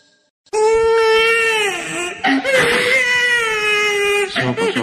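A baby cries loudly and continuously in long, wailing bursts with brief catches of breath between them, close and unaccompanied, the kind of night-time waking cry an infant gives.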